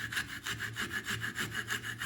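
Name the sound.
coping saw cutting wood of duck decoy carving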